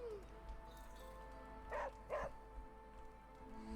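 A dog in Marvel Midnight Suns gives two short yips about a third of a second apart over a quiet game backdrop with a soft low hum.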